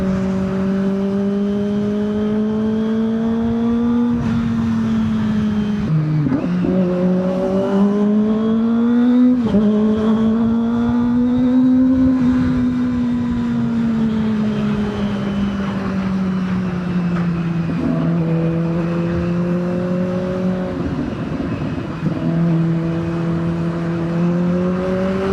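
Kawasaki ZX25R motorcycle engine heard up close while riding, a loud, steady high-pitched inline-four drone that rises and falls with throttle changes, with brief dips around gear shifts, wind noise underneath.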